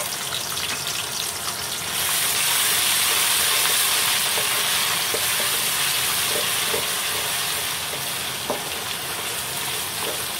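Garlic frying in a pan for a chicken korma, a steady loud sizzle that swells after the first couple of seconds and runs on continuously, with faint clinks of stirring near the end.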